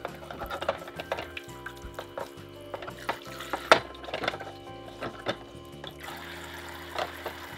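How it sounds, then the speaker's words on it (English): Dishes being washed in a sink with a sponge and dish soap, giving a steady run of close wet scrubbing, sloshing water and light clinks of dishware over nearly eight seconds, with no talking. "Give me a minute while I do the dishes."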